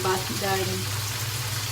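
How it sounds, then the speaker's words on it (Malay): Sliced onions hit a pan of frying beef, giving a close, loud sizzle with a brief stirring clatter at the start before settling into steady frying. "kita masukkan bawang besar. Irisan bawang besar."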